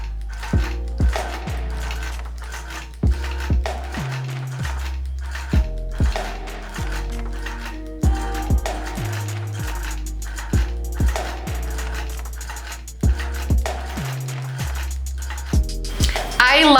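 A longarm quilting machine bastes across a circle quilt, giving a steady mechanical hum broken by regular rhythmic clunks and ratcheting clicks, close and continuous.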